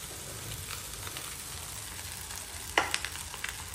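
Boiled rice for an egg fried rice stir-fries in a pan with a soft, steady sizzle, joined near the end by a few sharp scraping and clanking stirs of a utensil.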